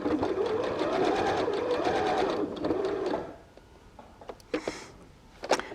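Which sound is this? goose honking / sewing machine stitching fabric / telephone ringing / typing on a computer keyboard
sewing machine stitching fabric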